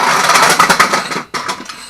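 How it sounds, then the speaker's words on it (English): An air-over-hydraulic shop press runs in a workshop, giving a loud, close pneumatic buzzing and pulsing chatter that breaks off briefly and resumes, used for pressing machined pulleys for an ATV flail mower. "I'm using my air over hydraulic press"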